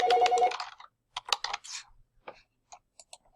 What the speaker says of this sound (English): Right here, my phone ringing, sorry.